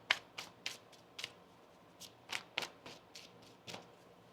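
A deck of tarot cards is shuffled by hand in quiet, crisp riffles and taps, a dozen or so short bursts at uneven intervals, close but soft.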